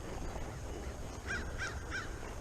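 Several crows caw outdoors, three clear harsh calls spaced evenly over a constant broadband background hiss, moderately distant and fairly faint.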